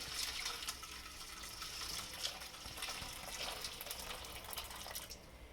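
Warm water pours steadily for pizza dough, a continuous close splashing and trickling stream with no talk, holding level for several seconds.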